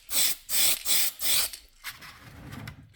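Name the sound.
spray can of Tamiya flat white paint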